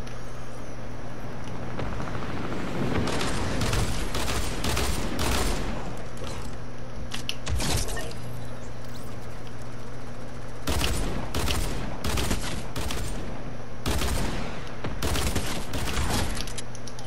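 Video game gunfire in an Arsenal mode match, several loud separate bursts of shots in clusters over a steady background hum, mostly without talk.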